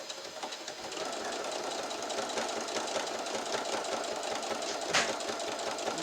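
A sewing machine runs steadily, top stitching a fabric Easter chick, a continuous close mechanical whir with rapid needle chatter and no talking.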